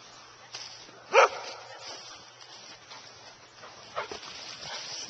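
A single sharp Airedale terrier bark close by, then a softer bark or yip a few seconds later, over quiet outdoor background.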